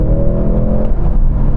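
Mercedes-AMG C63 S E Performance hybrid accelerating hard at full throttle, a loud, steady engine roar heard from inside the car over a short burst.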